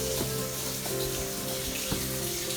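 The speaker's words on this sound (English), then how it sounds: "Many little tricklings of water. Tiny waterfalls." Tiny waterfalls trickle and splash in a gorge nature reserve, a continuous close hiss of running water with small droplet plinks scattered through it.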